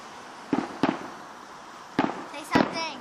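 Fireworks burst outdoors, four sharp booms spread over a few seconds, the last with crackling and a rising whistle.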